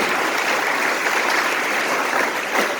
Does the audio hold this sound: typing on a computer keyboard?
no